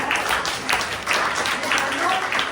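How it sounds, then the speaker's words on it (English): Audience clapping for a speaker at a business conference, a steady spread of hand claps filling the room at close range, with faint crowd murmur and a voice showing through. "please give a clap of hand for her"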